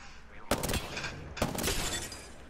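Two sharp bursts of gunfire from the video game Apex Legends sound about a second apart, each followed by a brief ringing tail over quiet background.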